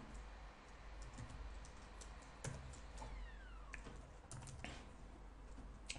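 Computer keyboard being typed on in a quiet room, a faint scattering of soft irregular key clicks over low background hum, no talk.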